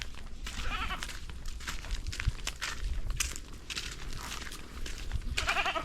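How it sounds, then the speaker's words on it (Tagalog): Goats bleat repeatedly on a farm, wavering nasal cries overlapping each other at close range, with rustling and shuffling hooves in the background. "Ayan na. Kambing."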